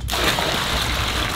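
Boiling water tipped from a bucket into a backyard swimming pool, a loud continuous splashing gush that starts abruptly and pours steadily, close up.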